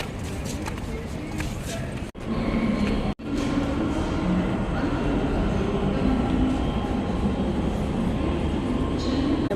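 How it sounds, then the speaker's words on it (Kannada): A loud, steady rumble of a metro train in a station, with a roaring hum and brief dropouts, voices faintly audible beneath. "ಇವಾಗ ಮತ್ತೆ ನಾವು ಮೆಟ್ರೋ ಸ್ಟೇಷನ್ಗೆ ಬಂದಿದ್ದೇವೆ"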